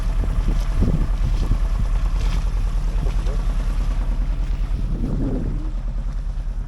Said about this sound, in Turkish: Motor rolantide e, ileri durumda